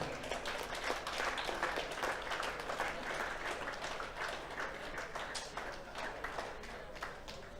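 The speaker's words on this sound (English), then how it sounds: "One more time, round of applause for your finalist" A darts crowd gives a sustained round of applause for a finalist at a championship final, a steady wash of clapping at moderate distance that continues without break.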